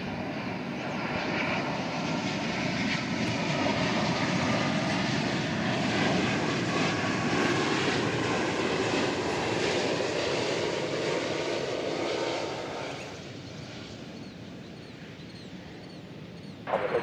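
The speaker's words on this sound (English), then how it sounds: "Here comes the Korean Air Dreamliner from Seoul" A Korean Air Dreamliner jet arriving at DFW after its flight from Seoul gives a loud, steady engine roar that fills the air and then drops away sharply near the end, with no talking.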